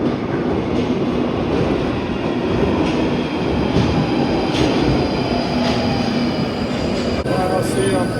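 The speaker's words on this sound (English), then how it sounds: "we're taking this train here to Charing Cross" A London train bound for Charing Cross rumbles loudly and steadily from on board, with continuous wheel noise, faint squealing and clicking rail joints, and a voice speaking over the din.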